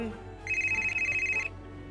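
A telephone rings with an incoming call, a steady electronic ringtone pulsing for about a second, loud and close, with a low background hum before and after.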